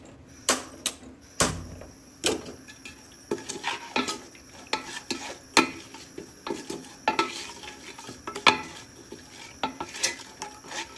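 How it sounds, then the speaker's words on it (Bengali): A pot of haleem being mixed and set on a stove: close metallic scrapes, clinks and knocks of a utensil against the pot in an irregular rhythm, with no voices. "তো আমি এখন এটা মাখিয়ে সুন্দর করে চুলায় বসিয়ে দিই।"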